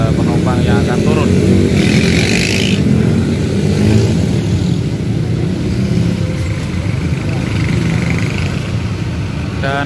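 A full Harapan bus pulls away in Serang, its engine rumbling low and steady amid roadside traffic, with a brief horn-like tone early on and someone talking over it.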